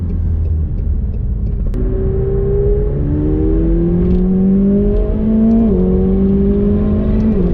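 A 2019 McLaren 720S engine revs hard and close, its loud drone climbing steadily in pitch over several seconds with a brief dip near the end, with no talking.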